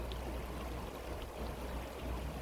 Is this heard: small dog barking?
no